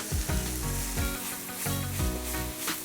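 Mushrooms with celery sizzle and fry in a pan, a close, continuous crackling hiss broken by repeated low knocks and scrapes of stirring.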